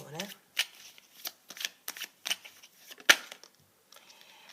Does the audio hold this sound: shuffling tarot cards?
yes